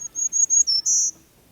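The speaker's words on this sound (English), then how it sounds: "is a black-throated green warbler. Here's a listen." Black-throated green warbler song: a quick series of high, thin buzzy notes rising into a longer drawn-out buzz, clear and fairly close in quiet surroundings.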